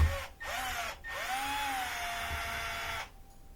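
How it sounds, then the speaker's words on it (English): Power screwdriver backing small Phillips head screws out of a porch light bracket, several short whirring bursts with rising and falling pitch, close and clear with brief pauses between. "I'm just going to take out one of these little Phillips heads."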